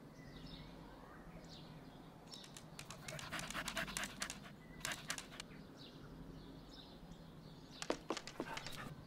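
A dog pants rhythmically in the video game Murder in the Alps, with quick breathy huffs coming in bursts over a steady low ambient hum, close and fairly clear.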